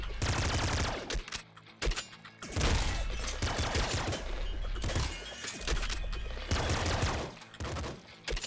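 A laser minigun fires in Nuclear Throne, a video game, in dense, rapid, loud bursts of repeated crackling shots with short pauses and shattering hits between the volleys.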